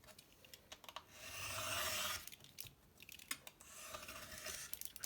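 A craft blade slices through paper for a junk journal page. Faint, close cutting: a soft sustained scrape with scattered small clicks and crunches, heard alone.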